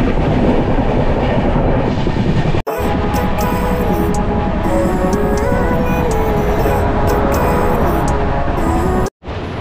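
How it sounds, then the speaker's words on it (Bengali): The Dhauli Express, running between Puri and Santragachi, rolls loudly on the tracks with a steady rumble and clatter and a droning tonal hum inside the moving train, broken twice by sudden brief dips. "আমাদের ট্রেনটা ছেড়ে দিল ধনমণ্ডল থেকে।"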